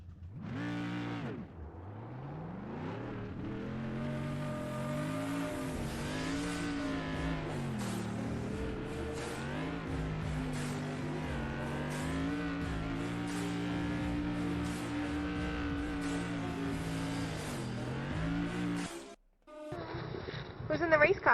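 SK modified race cars racing at Thompson Speedway, their engines a loud, continuous droning roar whose pitch climbs and falls as they lap, with voices talking over the racket.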